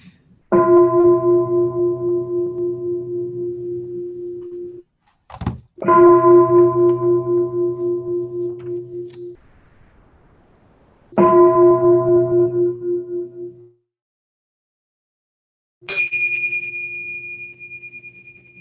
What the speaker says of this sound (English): we will begin with 3 sounds of the bell